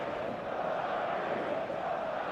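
A packed stadium crowd roars steadily with a dense, continuous wash of noise before an eFootball 2026 match on mobile, loud and unbroken, with distant chanting under a faint voice.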